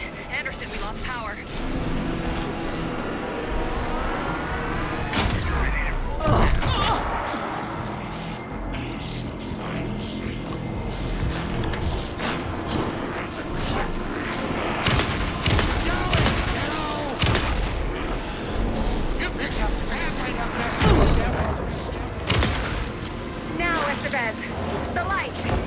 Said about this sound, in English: Anderson, pin him down with a gunfire for me to get the light on him.